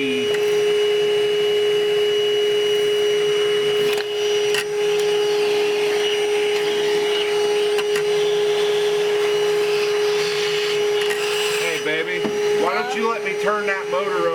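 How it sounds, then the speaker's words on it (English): A shop vacuum runs continuously and loudly, sucking mouse nests and debris out of a 1960 Ford F100, with a steady whine throughout and brief rattling bursts near the end. "you can literally just hear it sucking out all kinds of nasty mouse nests, mouse turds,"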